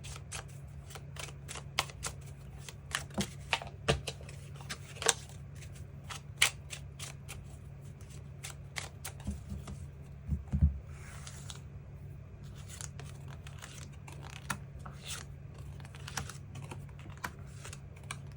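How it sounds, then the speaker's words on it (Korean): Tarot cards shuffled and drawn for a reading, a long stretch of quiet, irregular snapping and flicking of cards over a steady low background hum, with a slightly louder cluster partway through. "그 부분 추가 카드 뽑아보도록 하겠습니다"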